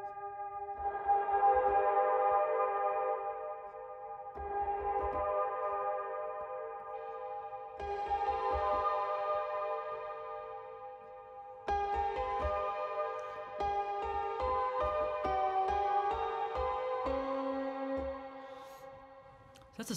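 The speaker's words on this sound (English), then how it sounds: "I can get like an ambient texture out of it and then start to open the filter." Sustained synth keyboard chords wash in slow waves with heavy reverb, the tone gradually brightening as the filter opens, over soft low pulses.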